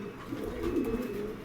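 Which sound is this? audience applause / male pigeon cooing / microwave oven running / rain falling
male pigeon cooing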